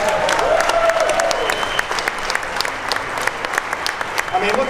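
At the SEMA unveiling of the Mopar 426 HEMI Hellephant 1000 hp crate engine, a crowd applauds loudly and continuously, sharp individual claps standing out over the dense wash, with faint voices in the mix.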